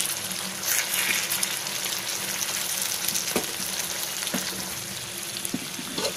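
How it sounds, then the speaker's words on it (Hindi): Stuffed eggplant sizzling in a pan as the pieces are turned over, a continuous hissing fry with soft scraping and a few clinks of the spatula, close and moderately loud. "अब हम ढक्कन खोल लेते हैं और बैगन को हम पलट लेंगे"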